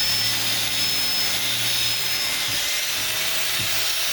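A power drill boring a hole through the top of a fragile box, heard as a steady, close, continuous whirring hum with a faint rough grinding as it bites.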